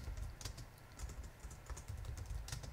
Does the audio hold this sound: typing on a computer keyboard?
yes